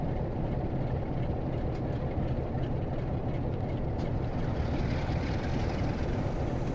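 A Class 377 electric train running from London Victoria toward Brighton in Train Sim World 2 gives a steady, loud rumble and drone, even and unbroken throughout.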